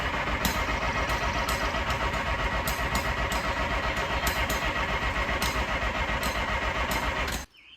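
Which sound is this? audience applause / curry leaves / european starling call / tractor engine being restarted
tractor engine being restarted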